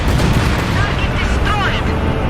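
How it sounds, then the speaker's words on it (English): Booming game explosions from an Ilyushin IL-2 bomb strike in a war video game roll out in a dense, continuous burst, loud and close, with crackling debris and a faint voice underneath. "IL-2 bomb strike heading for target. Ilyushin IL-2 attacking."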